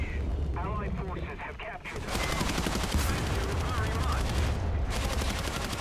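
Rapid bursts of aircraft gunfire from the PO-2 biplane in War Thunder, crackling steadily through the combat noise while a player speaks over it.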